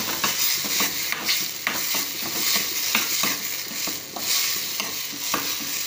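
Coriander being sautéed in a pan for a traditional chutney, giving a steady soft sizzle with repeated rhythmic scraping stirs, close up and without any voices.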